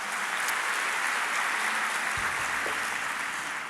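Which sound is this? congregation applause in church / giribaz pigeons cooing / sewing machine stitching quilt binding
congregation applause in church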